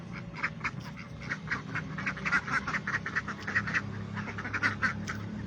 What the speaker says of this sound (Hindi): ये बत्तख आ गई।